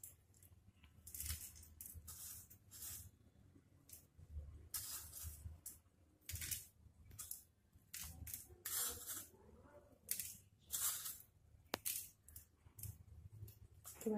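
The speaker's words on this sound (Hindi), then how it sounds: "अब हम इस पे ये भुजिया डालेंगे।" Bhujia is sprinkled over ketchup-topped biscuits, giving repeated short dry rustling patters in bursts with pauses between, close but quiet, with no talking.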